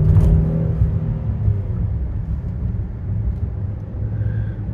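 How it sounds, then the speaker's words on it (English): A 2020 Kia Telluride SUV, rebuilt after a front-end hit, downshifting while driving, with a steady loud low engine and road rumble from inside the cabin and a slight shift in tone early on. "Downshifting."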